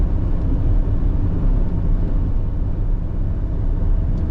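A 1985 Mercedes-Benz 300TDT diesel wagon cruises down the road, its steady low engine drone and road rumble filling the cabin, loud and continuous with no talk.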